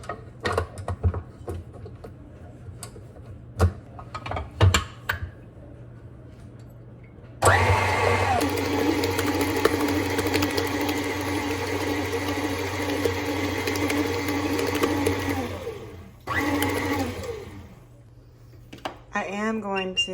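An electric stand mixer whirs steadily while beating cake batter in a home kitchen, running loudly for several seconds, pausing, then starting briefly again, with someone talking in between.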